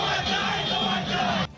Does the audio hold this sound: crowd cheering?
yes